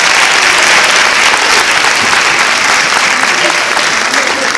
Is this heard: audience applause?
yes